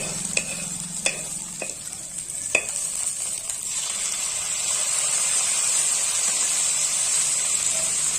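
Potato and tomato pieces fry in a pan with a constant bright sizzle and hiss, a few sharp utensil taps in the first few seconds, then steady frying alone.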